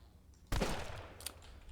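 A single sharp gunshot in the video game Zompiercer bursts out after a quiet moment, loud and close, followed by a short ringing decay.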